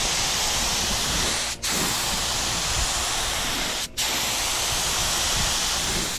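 A paint spray gun coating a Honda Civic in an auto body shop, giving a loud continuous close hiss that cuts off twice briefly between passes.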